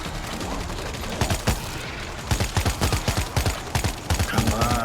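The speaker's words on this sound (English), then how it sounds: "just do what I'm doing here, just be an idiot and shoot constantly" Constant automatic gunfire aimed at zombie hordes in World War Z's New York section, sparse shots at first, then a loud, rhythmic stream of rapid bursts filling most of the stretch.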